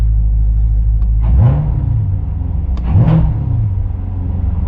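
Corvette C7 Grand Sport engine with a new AFE cold air intake idles with a steady low rumble, then blips twice in two short rising revs before settling back to idle, close and loud with no talking.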